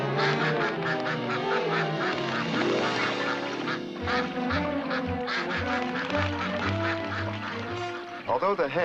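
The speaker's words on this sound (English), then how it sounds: "The mallard hen hides her nest among the grasses." Mallard hen quacking among lakeshore grasses, a string of nasal quacks blending with a steady narrating voice and background music, fairly close and moderately loud throughout.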